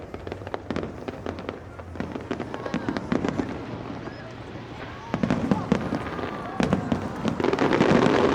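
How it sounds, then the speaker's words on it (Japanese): A fireworks display over Keelung harbour in Taiwan crackles and pops in dense rapid bursts, with loud booms layered over a continuous crowd murmur, building toward the end. "港の広場では花火大会が開催されました"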